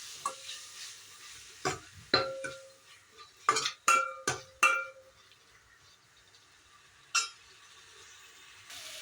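Three chopped tomatoes sautéing in a pan, a faint sizzle under scattered sharp clinks and scrapes of a spoon stirring against metal, close and intermittent with quiet gaps.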